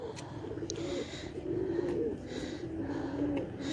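Large Madina teddy pigeons cooing in soft, repeated low notes through a steady murmur of background noise, close by and fairly quiet throughout.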